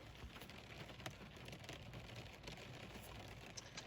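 Light rain heard from inside a car, a faint, even wash of patter on the body and windows with occasional soft drop ticks and no talking.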